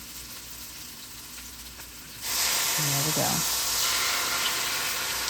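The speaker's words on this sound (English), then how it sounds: "Look at that sizzle." A loud, steady sizzle bursts in as red wine hits a hot pan, hissing continuously after a brief quieter stretch; a voice speaks briefly over it.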